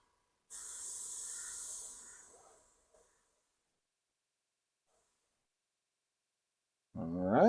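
A spray can hisses for a couple of seconds as a thin coat of paint goes onto a Millennium Falcon model, then fades into silence before a voice starts near the end.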